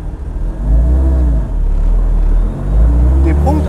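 A Kimera EVO 37, a road-legal Group B style car with 505 hp and 1050 kg of carbon and aluminium, revs loudly at close range as it shifts into second gear, with the engine note dipping and climbing again.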